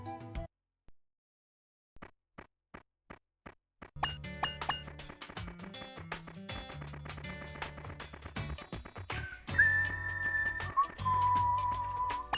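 Video game soundtrack music opens with sparse, evenly spaced clicks, then a full, busy arrangement with percussive clip-clop hits and a high sustained whistled melody near the end.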